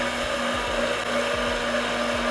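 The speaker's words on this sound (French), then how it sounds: "et là je prends l'outil magique, le mixeur" An electric blender whirs steadily and close as it mixes egg, mustard, salt and oil into mayonnaise, a constant motor hum with faint rhythmic thumps from the blade churning the thickening mixture.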